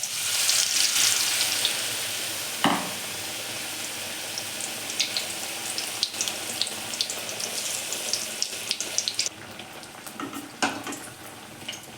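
Besan-battered bread chop is lowered into hot oil and fries with a loud, steady hiss, dotted with crackles and a few sharper pops.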